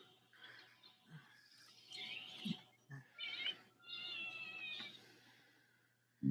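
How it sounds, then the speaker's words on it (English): A cartoon cat meows several times in a row, high and drawn-out, with brief pauses between calls and a faint background bed. "It's a kitty."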